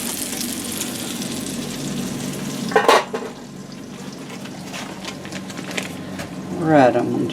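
Chicken fries in a pan with a steady sizzle underneath, interrupted by a couple of clanks from utensils or pans and a short burst of voice near the end.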